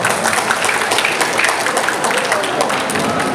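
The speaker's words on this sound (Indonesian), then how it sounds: "Tepuk tangan beliau." Audience applause at an Indonesian talk show gathering, a continuous wash of clapping from a large crowd, with some voices mixed in.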